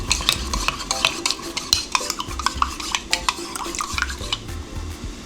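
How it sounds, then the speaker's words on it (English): A spoon stirs cornflour slurry for Nigerian chicken pie filling, brisk close clinks and scrapes against the bowl in an irregular rhythm over a soft background hum. "I'm going to add in my cornflour, going to mix thoroughly."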